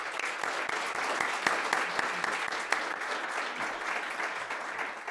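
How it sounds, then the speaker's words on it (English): Audience applause at a university sustainability summit, steady dense clapping from a crowd filling the room throughout, with no voices over it. "let's give her a round of applause"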